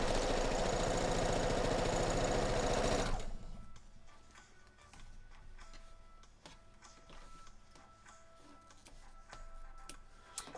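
Sewing machine stitching Wonder Woman quilt pieces, running loud and continuous for about three seconds, then stopping and leaving quieter ticking and faint background noise.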